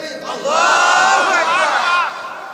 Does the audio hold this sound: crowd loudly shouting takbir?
yes